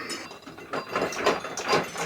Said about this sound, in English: I'm gonna have to take this bolt all the way out.